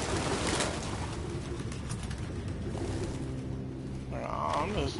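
Pigeons coo and rustle inside an apartment in the game Detroit: Become Human, a soft murmuring bird chorus over a steady background hum, with a clearer coo rising near the end.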